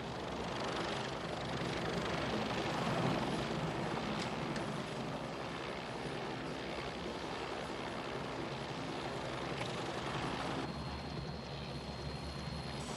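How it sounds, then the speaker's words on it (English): A steady, droning helicopter engine with a whirring rotor, continuous and fairly distant, with no voices. "The helicopter has just landed and Mr. Henry G. Clarke is getting off."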